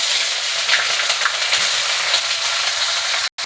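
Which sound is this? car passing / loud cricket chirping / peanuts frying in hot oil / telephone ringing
peanuts frying in hot oil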